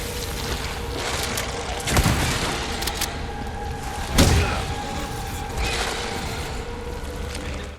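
Gunfire in the video game Resident Evil 4 Remake, two sharp booming shots about two seconds apart over a steady hum of in-game ambience and machinery.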